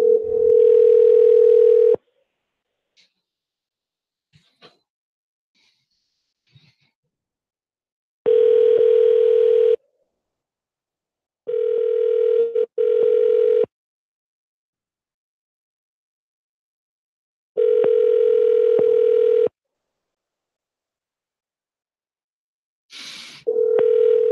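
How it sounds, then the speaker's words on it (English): Telephone line sounds during a call-in show: long steady tones broken by gaps, sustained and loud, with a brief higher chirp at the end, no voices present. "let's dial this number"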